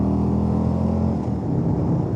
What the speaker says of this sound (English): City riding, all that torque allows this bike to be able to just get up and go